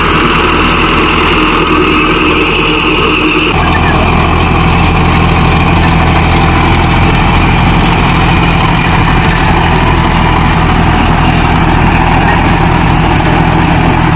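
A Mahindra 605 Novo tractor engine runs loud and close in farmland with a rotavator, a continuous low diesel rumble that shifts in tone partway through and then holds steady.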